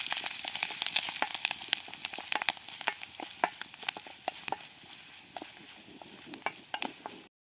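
Dry red chillies tempering in hot oil for Odia dahi soup, a faint continuous sizzle broken by scattered sharp crackles and pops that thin out toward the end, with no talk.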